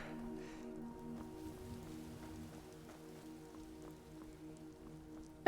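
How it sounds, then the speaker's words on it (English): Rain falls in the video game Enderal, a Skyrim mod, as a faint steady patter over a low ambient drone, with no talking. "It's raining now."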